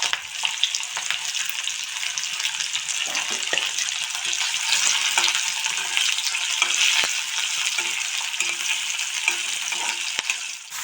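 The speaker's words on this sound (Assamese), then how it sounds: "এতিয়া ধুনীয়াকৈ এইখিনি ভাজি লওঁ।" Onions and three small green chillies frying in mustard oil, a bright, steady close sizzle with scattered crackles and occasional stirring taps, no voices.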